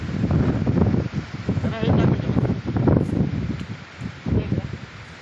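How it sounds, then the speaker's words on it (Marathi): Wind gusts outdoors in the Konkan countryside, a rough, blustery rumble buffeting the microphone in uneven surges. A voice talks over it. "हे वारं सुटलं आहे"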